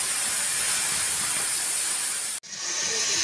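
A gas cutting torch cuts through a steel bucket with a loud, continuous hiss that breaks off for an instant and then resumes.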